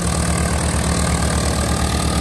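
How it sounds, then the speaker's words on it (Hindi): A Swaraj 855FE 4x2 tractor with a 55 HP engine runs steadily and loudly up close, its low, even chugging pulse continuing without a break, with no talking. "क्योंकि 55 HP की मशीन ट्रैक्टर है।"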